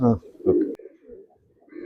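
Pigeon cooing from a loft of racing pigeons, a few short low coos close by, with brief gaps between calls and a higher note near the end.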